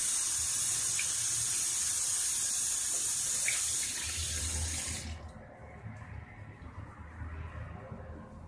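Water runs from a tap with a steady hiss for several seconds, then cuts off, leaving a softer, quieter trickle and faint handling sounds; no voices.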